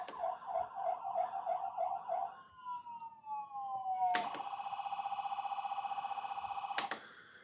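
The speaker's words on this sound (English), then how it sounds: "These are the siren buttons." A toy RC ambulance sounds its siren: a warbling electronic wail glides downward, then switches to a steady pulsing two-tone alarm that cuts off sharply. It is clear and alone, with no talking.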